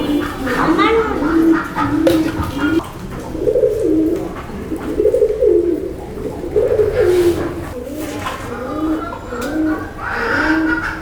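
Pigeons on a rooftop coo in repeated soft rounded phrases, several birds close by in a steady rhythm, with faint background noise and occasional clicks.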